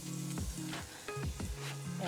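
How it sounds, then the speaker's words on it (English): Ginger hits hot oil with a loud, close crackling sizzle that runs throughout, while a person talks over it. "So now that oil is hot enough, I'm gonna throw in some of the ginger. Ooh, that sizzle."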